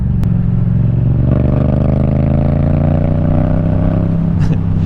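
A Yamaha MT-07 motorcycle engine pulls up from low revs, a steady loud drone with its pitch rising gradually. A brief clatter breaks in near the end.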